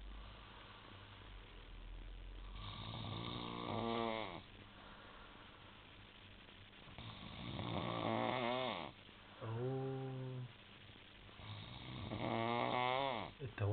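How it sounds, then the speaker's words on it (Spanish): Man snoring loudly, several long rasping breaths in an uneven rhythm, each swelling and then fading, with brief faint murmurs between them. "Miren cómo ronca"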